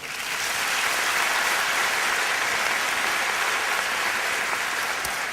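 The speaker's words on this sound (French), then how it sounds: "je voudrais que vous puissiez l'applaudir" An audience at a testimonial gathering bursts into sustained applause, with dense, even clapping from many hands that swells quickly and holds steady for several seconds with no voices over it.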